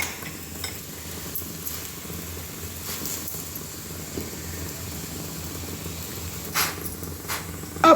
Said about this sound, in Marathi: दोन्ही साईडनं लच्छा भाजून घ्यायचं.